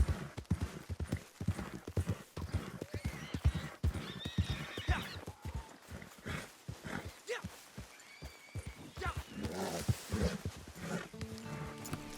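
A horse whinnies and snorts in Red Dead Redemption 2 online, with hooves clip-clopping over a busy mix of game sounds and rustling, the neigh rising clearly mid-clip and again near the end.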